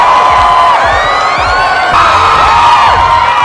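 A dense crowd cheers at a pop singer's concert, a loud, continuous wall of screams and whoops with high shrieking voices rising over the roar.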